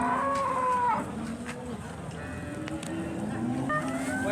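Cattle lowing at the Modnimb cow market in Maharashtra, with a long moo at the start and further calls over a busy, noisy crowd background, some voices faintly audible.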